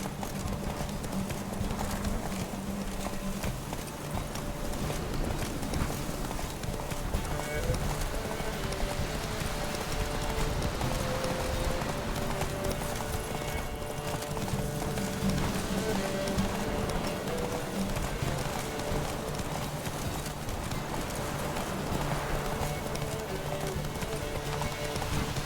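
Roach, Geralt's horse in The Witcher 3, gallops at a steady pace, with continuous rhythmic hoofbeats close by for the whole stretch, one brief whinny and no speech.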